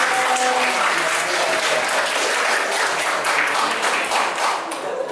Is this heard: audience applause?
yes